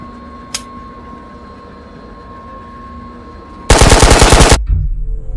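Burst of rapid automatic gunfire in the VR shooter Ghosts of Tabor, preceded by a single sharp shot and a faint steady hum, the loud rattling volley lasting about a second, close and without talk.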